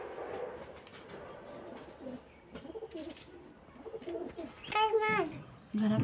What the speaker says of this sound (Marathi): किती पण आहेत ते, 7-8 कबूतर आहेत